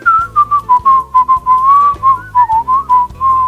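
Someone whistles a melody, a clear, loud line of quick, phrased notes, heard alone over a soft, low instrumental backing.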